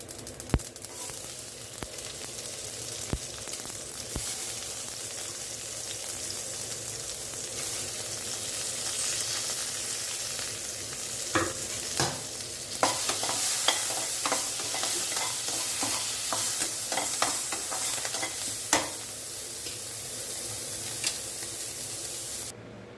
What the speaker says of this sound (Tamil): இப்போ பருப்பு கீரை மசியலுக்கு ஒரு தாளிப்பு கொடுத்துடலாம்